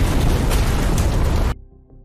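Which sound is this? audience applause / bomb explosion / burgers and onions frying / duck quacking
bomb explosion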